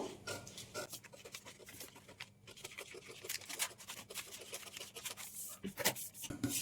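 Blouse fabric is cut along a marked outline, producing a continuous close-up rasping and rubbing of cloth and blades, with dense uneven strokes and no talking.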